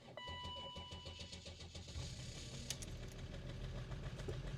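A BMW X5 engine, unstarted for about three weeks, cranks and catches, then runs roughly with a loud, uneven mechanical rumble and rattling throughout.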